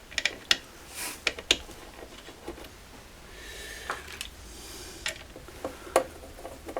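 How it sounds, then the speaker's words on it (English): Small metal screw driven back into a board inside a Fender Pro Junior guitar amplifier, giving scattered light clicks and ratcheting ticks from a screwdriver, close and fairly quiet with no talk. "let's pop one screw back in"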